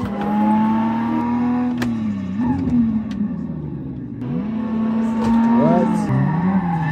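Race car engine droning and rising with gear shifts on a racing simulator, with tire skids near the end, loud and steady throughout while people talk over it.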